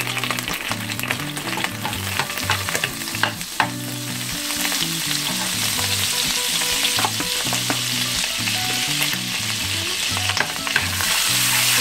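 Butter sizzles loudly in a pan left hot from frying wild salmon steaks, a constant crackling hiss. A low melodic tone runs underneath throughout.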